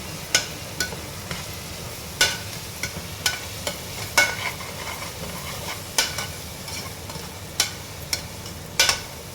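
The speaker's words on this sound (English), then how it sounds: "And mix it once." Chanagalluu, a chickpea curry, being stirred in a pan, with a soft constant sizzle under a string of sharp spoon clicks against the pan that come at irregular intervals, close up with no talking.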